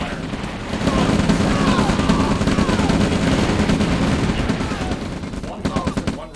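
Gunfire in the real-time strategy game OpenRA Red Alert during a heavy battle, a dense continuous crackle of rapid shots and bursts at steady loudness, thinning into separate pops near the end.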